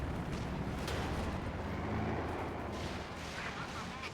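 Stuka dive bomber barrage in the World War II strategy game Company of Heroes 2: dense, continuous rumbling explosions and gunfire blend into a loud, sustained battle roar, with a voice talking over it.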